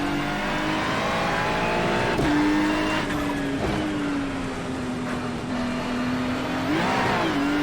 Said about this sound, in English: Big wheel spin on the exit there.